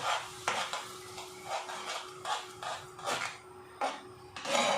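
Tofu sisig is stirred in a pan, a utensil scraping and tapping the metal in irregular bursts over a faint steady hum, fairly close and moderately quiet.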